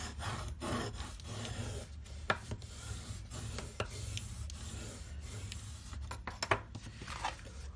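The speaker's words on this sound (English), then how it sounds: "I'm going to burnish it and then burnish it again." Paper burnished onto chipboard by hand, soft close rubbing and scraping strokes with occasional light taps, faint and continuous.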